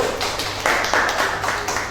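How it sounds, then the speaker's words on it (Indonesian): A short burst of applause, a small class of students clapping in quick uneven patter for about two seconds with no talking. "Tepuk tangan untuk kelompok 1."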